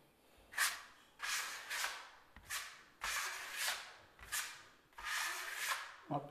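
A flexible steel drywall taping knife scrapes joint compound across a wall in six or seven rhythmic strokes, each a hissing rub with a faint squeak from the soft blade, fairly close and alone without talk.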